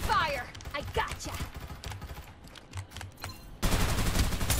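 Rapid game gunfire in the shooter Farlight 84, a dense burst of shots running the whole time beneath excited talk from several players, ending in a louder, heavier volley close by.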